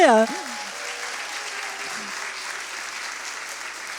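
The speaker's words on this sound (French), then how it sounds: "Vous pouvez les applaudir, les encourager." An audience at a Christmas celebration claps to welcome children arriving on stage, a steady, moderately loud applause continuing after a brief spoken voice at the start.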